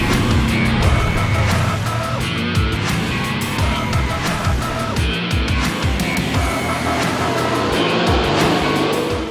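An Aston Martin Vantage GT4 race car runs at the Jerez circuit during a GT Winter Series race, its engine droning loudly and continuously with changing revs and other cars nearby.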